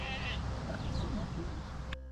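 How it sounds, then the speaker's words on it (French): A sheep on a farm bleats loudly and close up over steady outdoor background noise, one drawn-out wavering call followed by a brief sharper sound at the end. "Le mouton, il va chanter encore."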